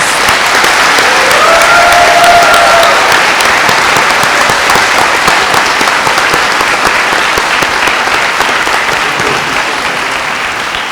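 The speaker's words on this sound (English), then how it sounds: "let's again give a round of applause for all of these incredible leaders" A large audience at a Governor's School gathering applauds its student leaders with loud, sustained clapping that runs for about eleven seconds. A brief cheer comes early, and the applause eases slightly toward the end.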